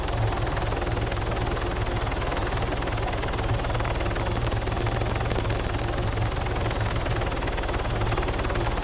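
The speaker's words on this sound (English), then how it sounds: "Is it a friendly heli flying around?" A helicopter flying around in the video game ARMA 3, its steady rhythmic rotor thump and engine whine running continuously, moderately loud, with no voices.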